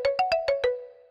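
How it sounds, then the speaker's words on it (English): Marimba patch on a Roland Fantom synthesizer plays five quick mallet notes in a short melodic run, each with a bright percussive attack and brief ring, the last one fading out alone. "If I just show you the marimba, just partial number one."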